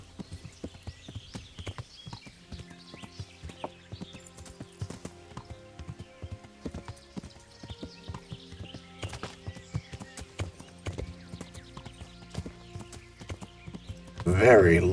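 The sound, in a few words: horse hooves galloping in Kingdom Come: Deliverance video game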